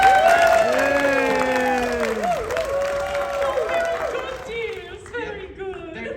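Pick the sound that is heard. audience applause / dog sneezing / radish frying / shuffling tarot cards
audience applause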